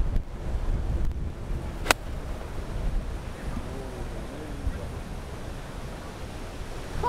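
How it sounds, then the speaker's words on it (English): Strong, gusty wind on a golf course buffets the microphone with a constant loud rushing roar, broken by a single sharp click early on. "this wind is brutal"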